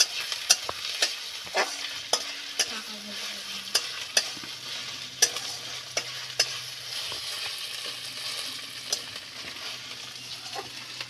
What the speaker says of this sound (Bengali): এগুলোকে একটু ভাজতে হবে।